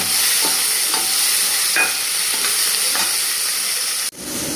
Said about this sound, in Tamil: ஒரு கப்பு குடமிளகா நல்லா வதக்கி விடுங்க